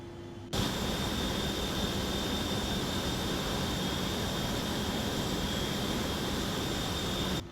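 An airliner engine roar in X-Plane 11 kicks in abruptly and holds as a loud, steady jet whine and broadband rush with a thin high tone, then cuts out at the end.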